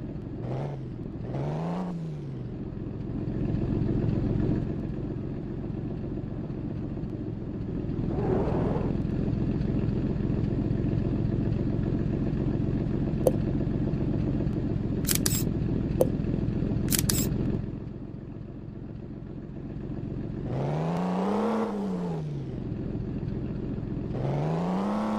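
A truck engine in Truck Simulator Ultimate gameplay, a steady low drone throughout that swells and settles as the engine rises and eases, with a few brief sharp clicks and sweeping tonal sounds at either end.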